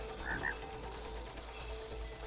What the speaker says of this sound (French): Oh, la grenouille.